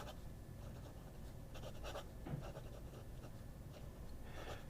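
A Pineider La Grande Bellezza fountain pen scratching across paper, soft close-up strokes in irregular short bursts over a low steady background hiss, fairly faint and without speech.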